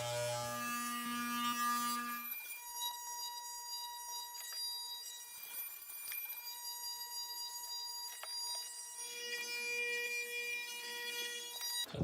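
Electric hair clippers trim hair around the ear, giving a steady buzzing hum close by. The pitch shifts a little as the blades work through the hair, with no voices.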